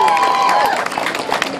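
A lively audience at a live music performance claps and cheers loudly, with crowd voices mixed into the dense, continuous applause.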